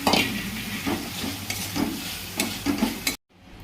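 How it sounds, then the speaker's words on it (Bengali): Fried cauliflower with tomato sauce is stirred in a sizzling pan for a cauliflower fish curry, with rhythmic scraping strokes over a steady fry, then an abrupt cut to near silence. "নেড়ে নিলাম ভালো করে"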